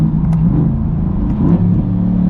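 The engine of a C8 Corvette revs hard toward its 7,000 rpm redline, a loud, close, sustained roar with a deep rumbling tone that holds and swells slightly across the short burst, with no voices.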